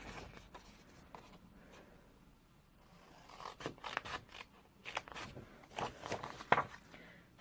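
Scissors cut up score lines in card stock while a Christmas treat bag is being made, soft close snips and paper rustles that grow busier and louder toward the end, heard alone in a quiet room.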